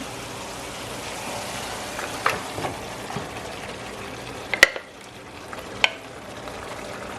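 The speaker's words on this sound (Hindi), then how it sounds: "अब मैं इसी में चिकन डाल रही हूँ" Chicken pieces go into a pan of green chilli masala and fry with a steady soft sizzle, with a few sharp clinks and stirring knocks near the end.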